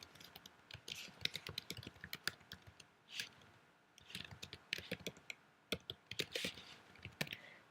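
Rapid keystrokes on a computer keyboard as an assignment name is typed, irregular bursts of close, crisp clicks with short pauses between words and no voices.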